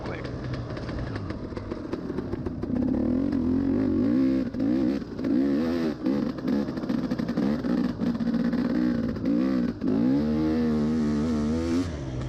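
A dirt bike engine revs hard through thick mud in an off-road race at the OXCR 2022 Round 1 Old 50, its pitch rising and falling steadily for the whole stretch, close and loud throughout.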